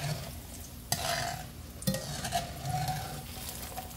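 Squash pieces frying in hot oil are lifted out with a strainer: a steady close sizzle with two sharp metallic clinks and scraping stirs, no talking.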